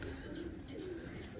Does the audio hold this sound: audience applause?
no